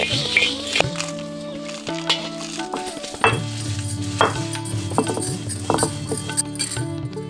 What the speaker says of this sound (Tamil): இது எல்லாத்தையும் இப்ப வறுத்து அதை நல்லா அரைச்சு எடுத்துக்குவோம்